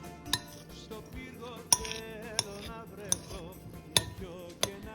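Clinking utensil strikes against a bowl while tossing a Greek quinoa salad with tomatoes, Kalamata olives and cucumber, a series of sharp, fairly close taps spaced irregularly over quiet background.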